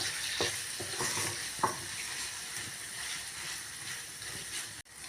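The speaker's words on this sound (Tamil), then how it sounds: "இப்போ நம்ம சுட்டு எடுத்த கத்திரிக்காயை சேர்த்துடலாம் நல்லா கலந்து விட்டுக்கலாம்" Roasted brinjal being stirred into a tomato-tamarind mixture in a pan for brinjal chutney: a steady soft sizzle with scattered scraping clicks of the spoon, close up and with no talk.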